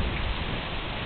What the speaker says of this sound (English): If you can hear the thunder.